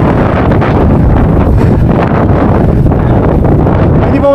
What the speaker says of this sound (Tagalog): So as you can see, it's very windy.